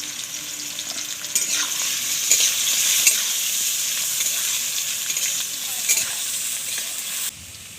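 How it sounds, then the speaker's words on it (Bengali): Carrots sizzling and frying in a pan as vegetables for chicken chow mein, with occasional stirring scrapes over a steady, fairly loud hiss that runs the whole time and drops off near the end. "প্রথমে গাজরটা ভেজে নিচ্ছি"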